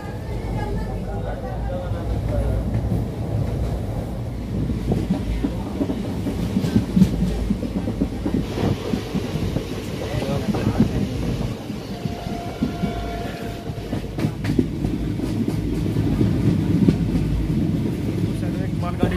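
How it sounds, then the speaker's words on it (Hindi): A passenger train arrives and runs through a railway station near Modinagar, making a steady rumbling clatter with rhythmic wheel clicks that carries on throughout while people talk nearby. "ट्रेन का अनाउंसमेंट हो चुका, ट्रेन आ रही है, अब पकड़ेंगे ट्रेन को, डिब्बे में बैठेंगे"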